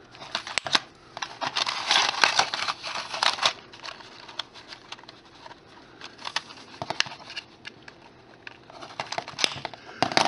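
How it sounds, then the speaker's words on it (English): Wire cutters snip through sections of thin wire for a miniature tree, giving a run of sharp, close clicks and rustling handling noise, alone with no talking. "I'll take some regular cutters, wire cutters, and cut off a section"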